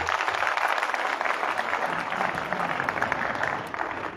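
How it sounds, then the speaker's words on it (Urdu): An audience at a government higher secondary school literary society event claps for a young student speaker; steady, fairly soft crowd applause with no voices over it. "ایک بار پھر اس ننھے پھول کے لیے زوردار تالی ہو جائیں"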